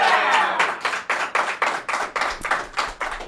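An audience claps in a steady, fairly close rhythm of distinct hand claps, roughly three per second, with no talking over it.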